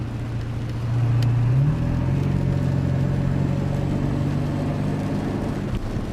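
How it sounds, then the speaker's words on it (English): A car engine idles and revs with a rumbling exhaust and a rising whine from a spooling turbo, steady and close. "There's a little turbo spool for you."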